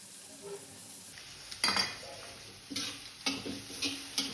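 Onions fry in a pan with a few curry leaves while being stirred. A quiet sizzle sits under several distinct scraping, clinking strokes of a utensil against the pan, close by.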